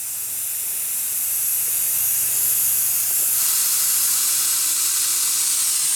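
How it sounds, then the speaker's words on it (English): Compressed air at about 10 psi hisses steadily and continuously at close range into a hose and brake line, with a slight shift in tone midway through. "that's just letting air through into the hose and into the brake line"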